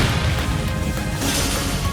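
The Rionac weapon fires in Trails of Cold Steel III, a loud, continuous blasting roar with heavy low-end boom that fills the whole moment without pause.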